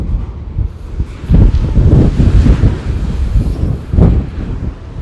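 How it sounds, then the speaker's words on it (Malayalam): Strong wind gusts across the mountains near Abha in Saudi Arabia, buffeting the microphone in loud low rumbling surges that swell and fade over a few seconds, with no voices. "കാറ്റ് അടിച്ച് വീശാണ്."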